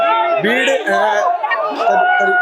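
Protest crowd at Shaheed Smarak in Jaipur, a dense, loud babble of many voices chattering and shouting close by, continuous throughout with overlapping speech.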